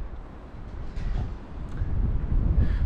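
Strong gusts buffet the microphone on a windy day out in Trieste, a low rumbling roar that swells and grows heavier toward the end, with no talking.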